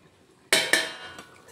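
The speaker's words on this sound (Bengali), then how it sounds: "এখন ঢাকনা খুলছি" A lid is lifted off a pot of chicken kosha simmering on a gas stove, sounding as a sharp metallic clank followed by a second clink and a lingering ring, then a lighter tap.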